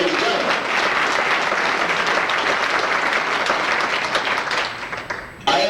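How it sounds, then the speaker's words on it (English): Banquet audience applauding a racing driver at an auto racing fan club awards dinner, a dense sustained round of clapping that fills the room for about five seconds before tapering off. "The Hammer Man from St. Charles, give a nice round of applause"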